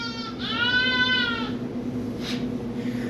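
A ewe in labor during lambing gives a clear, drawn-out bleat near the microphone, followed by a shorter faint cry over a quiet background hum.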